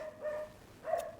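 A dog in a game barks twice in quick succession, short yelping calls at moderate distance with no talk around them.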